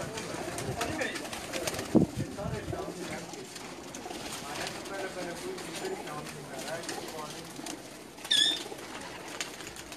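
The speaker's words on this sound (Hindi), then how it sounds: "ये तमाम उड़ने वाले कबूतर हैं जी।" Female flying pigeons coo and stir inside a rooftop loft in Jeddah, Saudi Arabia. Soft murmuring coos and brief wing flutters sit under continuous talking voices nearby.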